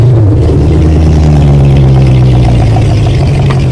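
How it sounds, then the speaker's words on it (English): Car engines idle with a loud, steady low rumble and a heavy throb close by, holding level throughout with no talk. "Alright, start those engines."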